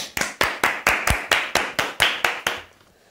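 One person claps about ten times in a steady, even rhythm, close and crisp, then stops.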